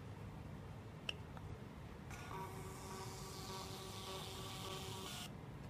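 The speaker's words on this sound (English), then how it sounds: "The printer will print the paper of the result." The built-in thermal printer of an AT8100 professional breathalyzer printing a test result, a steady whirring feed lasting about three seconds over quiet room hiss, with a faint click just before.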